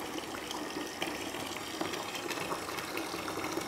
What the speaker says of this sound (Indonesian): saya akan coba tes keran mixer ini